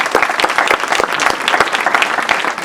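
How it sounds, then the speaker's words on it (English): A crowd of people at a Project Teddy Bear presentation claps loudly and briskly, a dense close burst of applause lasting the whole moment. "We want to give them a round of applause."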